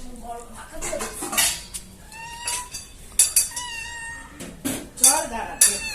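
Hungry cat meowing repeatedly while waiting for food, several clear drawn-out meows close by, mixed with a person talking and light clinks of dishes.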